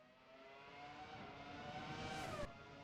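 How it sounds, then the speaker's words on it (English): A Formula 1 race car engine from the 1997 season in Assetto Corsa, on the Korean Grand Prix circuit, rises in a steady high-revving whine that climbs in pitch, then cuts off sharply as it passes. "Because you don't want to miss the purr of these engines."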